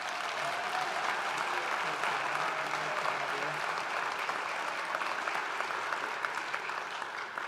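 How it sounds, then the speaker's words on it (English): Steady, dense applause from a ceremony audience for a career and technical education completer, a full room clapping evenly for several seconds without a break. "Let's give her another round of applause."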